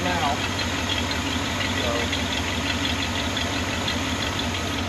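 A 1979 Ford barn-find engine idles steadily on its carburetor, a loud, close, continuous rumble with an even pulsing rhythm, while a person briefly speaks over it.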